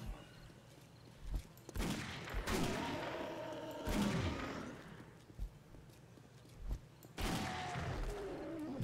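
Gunfire in the zombie survival game 7 Days to Die: several loud, sharp shots spaced a few seconds apart, each with a booming decay, over low game ambience and no voices.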